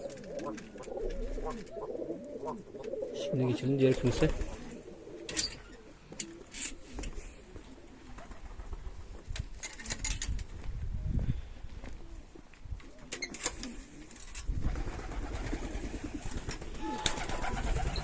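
Soft pigeon cooing recurs among general bird chatter, with someone speaking intermittently and some rustling and shuffling nearby.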